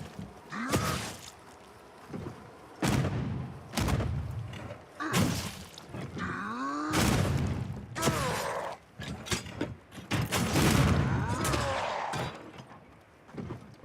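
Gunlance combat in Monster Hunter World: a run of loud, sharp shell blasts and heavy metallic impacts arriving in uneven bursts, with mechanical clanks and whooshing swings between them and a continuous game soundscape underneath.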